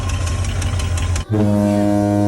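A 1948 Ford F-1 panel truck, just pulled out of a barn, runs with a loud, steady engine drone close by. About midway the sound shifts abruptly to a smooth, even hum.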